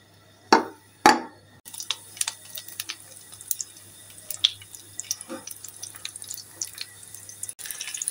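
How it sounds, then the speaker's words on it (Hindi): Frozen roghni naan cooks slowly over low heat in melted ghee on a tawa, with two sharp sizzling bursts at first, then quiet intermittent crackles and pops. "अब मैं नान रखूंगी और इसे आहिस्ता आँच पे पकाऊंगी।"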